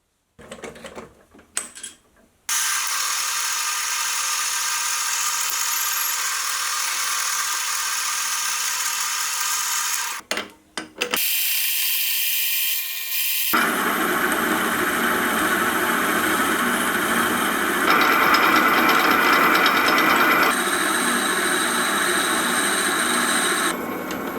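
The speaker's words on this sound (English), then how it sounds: "So I'll get the pieces loaded up and we'll start drilling." A machine drills holes in wooden jack plane parts, its motor whirring steady and loud for long stretches, stopping and restarting between passes, with changing pitch as each bit cuts the workpiece.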